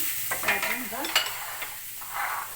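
Lamb tail fat sizzles and crackles as it melts in a hot sac pan, with scraping stirs and clinks of a utensil against the metal, close and fairly loud.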